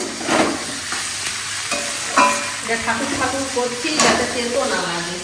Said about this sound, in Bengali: সবজি পাতিতে পেঁয়াজটা দিচ্ছি